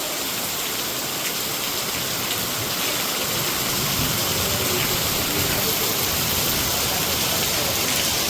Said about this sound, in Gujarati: વરસાદ તોડી નાખે એવો પડી રહ્યો હે.